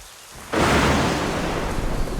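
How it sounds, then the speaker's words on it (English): A thunderstorm in the video game Assassin's Creed Rogue, with a deep thunder roll bursting in after a quiet rain hiss and then rumbling on heavily under continuous rain, loud and close, with no voices. "This storm's getting worse."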